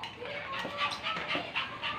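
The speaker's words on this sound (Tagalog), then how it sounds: "Ang kulit ng aso ko oh. Pag may dumadating na tao talaga." An excited pet dog whimpers and whines in quick, high, broken bursts as a visitor arrives home, faint and fairly close, with soft panting between the cries.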